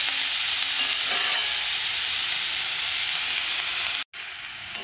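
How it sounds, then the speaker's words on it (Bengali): Fenugreek greens stir-frying in hot oil, a loud steady hissing sizzle close up, briefly cut off near the end before resuming. "এইভাবে আর কিছুক্ষণের জন্য ভেজে নেব।"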